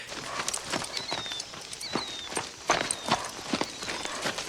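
Horse hooves clip-clop at a steady walking rhythm in a film scene from The Color Purple, with a man riding, the sharp footfalls moderately close over a faint background and no speech.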